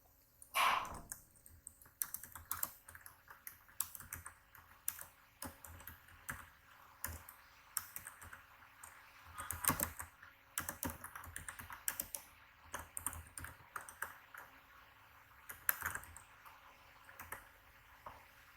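Fingers type subtitles by hand on a computer keyboard, a steady run of quick, close key clicks and taps that carries on for the whole stretch with no voice over it.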